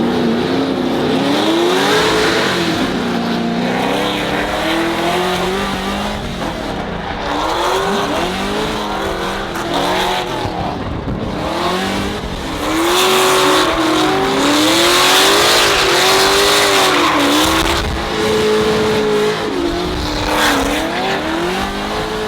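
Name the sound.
Corvette drift run, engine revving and tires squealing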